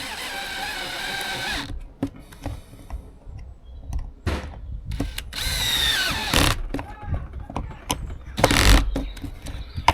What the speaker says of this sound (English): when I start driving these screws in, they're going to want to push the pieces of wood apart